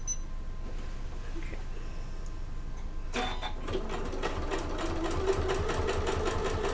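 A sewing machine stitches fabric for a bag after a quiet stretch, starting abruptly with a steady, rapid mechanical whirring and rhythmic needle clatter, close and moderately loud.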